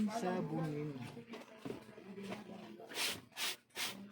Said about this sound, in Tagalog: Kailangang kuskusin.